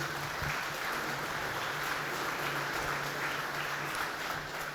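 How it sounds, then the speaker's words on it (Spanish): Sustained applause from a church congregation during a service, a dense, even wash of clapping filling the whole space at moderate volume without pause. "Dale un aplauso al Señor, por favor."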